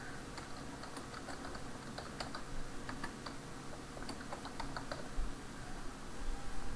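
A computer keyboard is typed on to enter a new user's password while adding an account in Linux Ubuntu 13.10. Keystrokes come as close, irregular, steady clicks throughout, with no talking.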